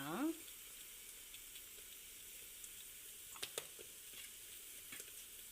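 Cumin seeds and asafoetida frying in hot oil give a steady, faint sizzle throughout, with a few small pops and clinks near the end.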